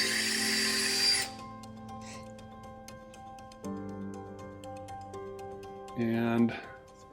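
A power drill bores into a wall in two short whirring bursts, one at the start and a briefer one near the end, with quieter pauses in between.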